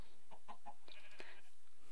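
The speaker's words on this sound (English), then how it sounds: "Excuse me, sheep." Sheep in the Minecraft video game give a few short, nasal bleats in quick succession, close and moderately loud, against quiet in-game ambience.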